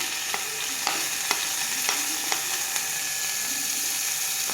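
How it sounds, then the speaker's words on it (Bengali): Ginger and garlic frying in a pan for soya chilli make a steady, close hiss of sizzling oil, punctuated by regular sharp taps and scrapes of stirring. "আর এদিকে যাচ্ছে আদা, এটা একটু জাস্ট ফ্রাই করে নেবে"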